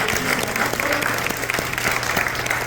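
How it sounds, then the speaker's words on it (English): A room full of people claps in a continuous, lively round for an honored guest at a community talk, close and fairly loud, with individual sharp claps popping out of the dense wash. "So if you would like to give him one more round of applause"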